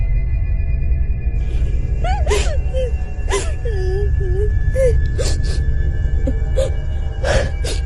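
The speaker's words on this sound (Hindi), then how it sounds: "तभी फिर से किसी की रोने की आवाज आने लगती है" Crying voice in a cartoon graveyard at night: wavering, sobbing vocal tones with sharp breathy bursts, heard over a loud, steady low rumble of background ambience throughout.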